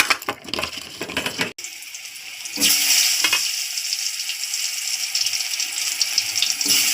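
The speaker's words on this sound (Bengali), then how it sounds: "সবগুলো কুমড়ো দিয়ে দিয়েছি, এখন ভাজা দেবো" Pumpkin pieces seasoned with salt and turmeric sizzle in hot oil in a kadai, a steady loud crackling hiss that swells after an initial quieter stretch of scraping and handling, with no voices.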